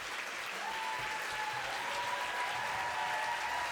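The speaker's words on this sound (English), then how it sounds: "Give him a round of applause," An audience gives a performer a steady, dense round of applause that holds at an even level throughout, with a faint murmur of the crowd underneath.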